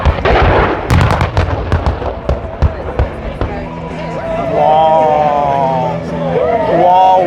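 Pyrotechnic wall-of-fire explosions at an airshow, with F-35 jets nearby, boom out as a rapid series of loud, sharp blasts over the first few seconds, then a sustained roar as excited voices talk and exclaim.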